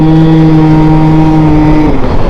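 A small, unassuming little motorcycle engine holds a loud, steady, close-up drone with a clear pitch, then the pitch dips slightly near the end.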